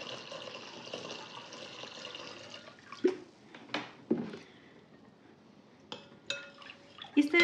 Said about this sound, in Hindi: इस तरह से हल्दी को पानी में घोल लीजिए।